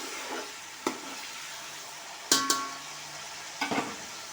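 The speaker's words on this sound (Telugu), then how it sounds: "అవన్నీ కొంచెం వేగిన తర్వాత బాగా కలుపుకోవాలి." Green chillies, onion and tomato frying for biryani, with a soft steady sizzle in a pan and a few sharp scrapes and clinks as the mixture is stirred, close and fairly quiet.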